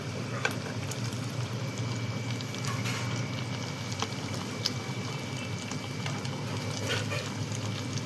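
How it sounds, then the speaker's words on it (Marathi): Chicken pakodas frying in boiling oil give a steady bubbling sizzle that holds evenly at close range, with small crackles and pops scattered through it. "पण आता तेल छान असं उकळत आहे"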